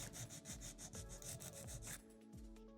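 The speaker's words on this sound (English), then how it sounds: "place the file underneath the nail, file straight out." A nail file rasps across an acrylic coffin-shaped nail in quick, close, even strokes, about a dozen in a row, then slows and stops near the end.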